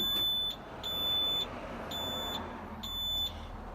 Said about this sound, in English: the fourth beep basically indicates that the ultrasonics have been disabled